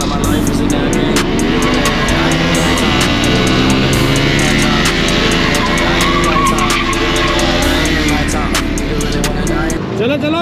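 A motorcycle revs hard during wheelie stunts at a Sunday stunt ride, a loud, close engine whine that rises and falls in pitch, with shouting and crowd noise over it.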